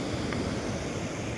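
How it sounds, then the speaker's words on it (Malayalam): Cool wind gusts along a mountain trail near Manikaran and Tosh in the Himalayas, a full, steady roar of rushing air buffeting close to the microphone. "നല്ല തണുത്ത കാറ്റ്"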